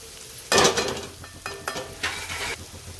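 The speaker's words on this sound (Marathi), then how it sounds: "कांदा आणि लसण, हिरवी मिरची मस्तपैकी परतलेले." Onion, garlic and green chili sautéing in a pan for a Maharashtrian toor dal dish, with bursts of sizzling and a spatula scraping and stirring in short strokes, close and fairly loud.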